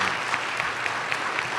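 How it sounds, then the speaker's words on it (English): Steady applause from an academic colloquium audience for a panel, a dense patter of many hands clapping at an even level throughout. "give our panelists a round of applause"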